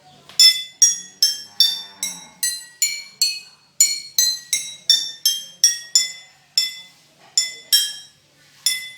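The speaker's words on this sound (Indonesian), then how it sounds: "mari kita tes apakah botol ini akan memiliki suara yang berbeda apabila ujungnya ditutup menggunakan tutup botol" Glass bottles, some capped and some open, are struck one after another in a physics demo of open and closed pipes, about twenty bright ringing clinks in a quick, fairly even rhythm, each fading fast.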